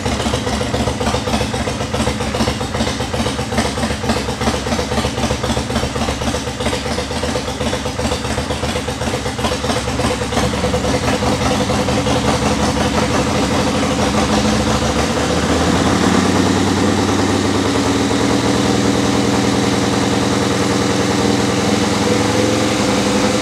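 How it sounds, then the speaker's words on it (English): A motorcycle engine runs steadily at idle in a workshop during a charging system test, a loud continuous close rumble whose tone shifts slightly partway through, with no talk. "we're going to start the bike and do it at idle"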